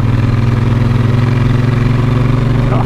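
A Triumph Bonneville T100 motorcycle idles up close, its exhaust giving a loud, steady, evenly pulsing low rumble with no revving.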